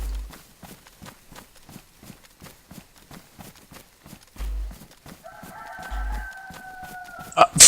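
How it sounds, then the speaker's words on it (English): Rhythmic footsteps crunch steadily in the video game DayZ, then a rooster crows loudly in a long, drawn-out call near the end. "Loud ass rooster."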